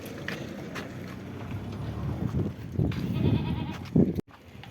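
Goats at a rural farm, one of Dutch breed parentage, make bleating calls through a steady background of livestock noise, with a few louder, closer bursts near the end before a sudden cut.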